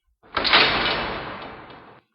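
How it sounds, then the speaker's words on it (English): A storeroom door closes in an audio drama effect, a single broad sliding rush that swells and fades over about two seconds, heard alone without speech. "I slipped into the storeroom and locked the door."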